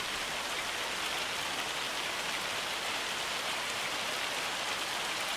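Dense, even hiss of heavy rain and hail pelting down in Farming Simulator 25, a continuous steady downpour with no voices over it.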